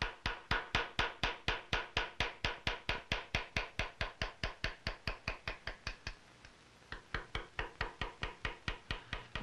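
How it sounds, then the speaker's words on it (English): A round bottom chisel being tapped to engrave a steel gun side plate gives a steady, rapid train of sharp metallic strikes, evenly spaced and close, with one short pause before the tapping resumes. "A round bottom chisel is used for cutting lobes and leaves."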